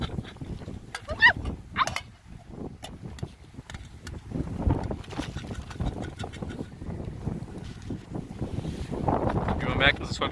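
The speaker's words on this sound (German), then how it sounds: "Wie man merkt, es ist heute übrigens sehr windig." Strong gusty wind buffets the microphone at a campsite on the Portuguese coast near Faro, producing a continuous low rumbling roar that surges and fades in waves, with faint scattered bird calls above it.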